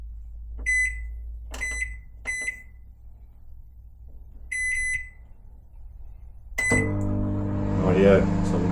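Four short, bright keypad beeps, spaced about a second apart, set a kitchen microwave heating pasta sauce for tuna mornay. A longer beep follows, then the oven starts with a steady, loud running hum that lasts to the end.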